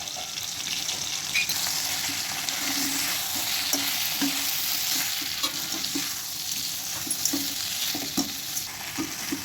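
Brinjal fry with chili powder sizzles steadily in a pan while a spoon stirs it, with soft scrapes and clicks recurring through a continuous close frying hiss and no talk.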